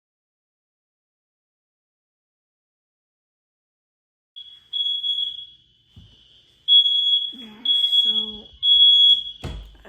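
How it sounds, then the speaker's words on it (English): Apartment smoke alarm going off at night, a piercing high-pitched electronic tone sounding in repeated bursts after silence, with a person speaking quietly under it. "my fire alarm started going off in my apartment"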